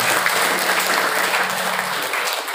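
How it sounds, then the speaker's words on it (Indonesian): Audience at an Islamic boarding school parenting event applauding a young student, a continuous dense roar of clapping from hundreds of people, loud and steady from start to finish. "tepuk tangan buat Yusuf"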